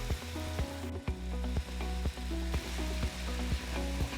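Seasoned cheesesteak meat with Italian seasoning, black pepper, salt, onion powder and garlic powder sizzles steadily in a pan, close and continuous, broken by regular scraping stirs about every half second.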